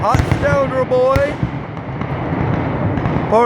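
Amid shouting voices at a Lonaconing, Maryland family fireworks gathering, a few sharp pops and a rumbling boom from the fireworks sound close by, fading into a low hiss.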